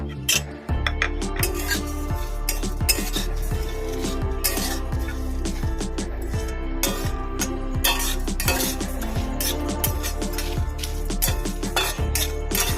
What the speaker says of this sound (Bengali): এটাকে শুকনো খলায় ভেজে নেব